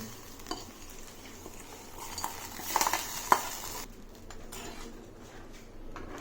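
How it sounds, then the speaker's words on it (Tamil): A spiced tempering is poured into a pot of homemade fish curry and stirred in, giving a cluster of metal clinks and scrapes midway, then quieter, softer stirring. "இப்போ தாளிப்பு வந்துட்டு இதில் குழம்புல சேர்த்துக்கலாம்."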